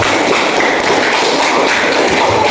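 A classroom of students applauds together, a dense, loud, continuous patter of clapping lasting a couple of seconds.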